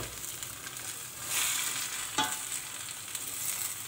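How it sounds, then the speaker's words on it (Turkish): Green beans frying in a pot with a steady soft sizzle and a few scraping stir strokes. One sharp scrape stands out near the middle. "Şöyle alttan üste doğru bir kere karıştırmaya çalışıyorum."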